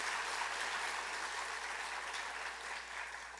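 A church congregation applauds during a Sunday worship service, steady dense clapping filling the sanctuary at moderate level throughout, with no voices over it.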